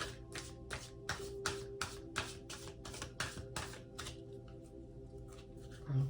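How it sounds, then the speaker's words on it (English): Tarot cards being shuffled by hand during a reading: a steady run of about a dozen crisp riffling snaps in a regular rhythm, close and fairly quiet, fading out toward the end over a faint background hum. "I'm just shuffling."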